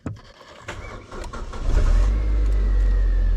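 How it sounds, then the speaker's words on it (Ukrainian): A car engine with 28,000 km mileage cranks with a few clicks and whirs, then catches and settles into a loud, steady idle rumble close by. "Ось завівся у нас двигун."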